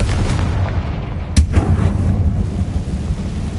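A single sharp Confringo fire-spell blast from the Hogwarts Legacy video game bursts out about a third of the way in, a loud boom over a steady low rumble of game ambience.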